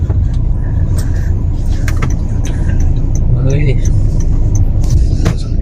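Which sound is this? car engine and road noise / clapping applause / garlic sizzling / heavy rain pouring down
car engine and road noise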